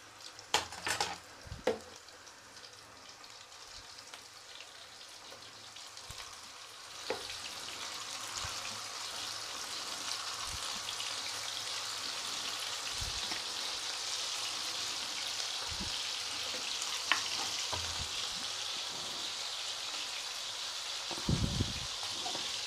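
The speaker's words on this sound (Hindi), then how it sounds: "अब हम इसमें अपने कबाब डालकर फ्राई करेंगे।" Mutton kebabs sizzling in hot oil in a frying pan at home, a steady, soft crackling fry that holds throughout, with a few clinks and bumps of handling near the start and end and no talking.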